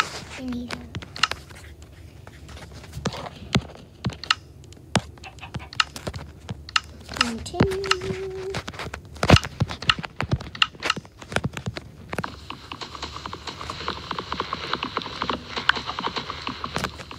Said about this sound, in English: That's a noise from a keyboard and mouse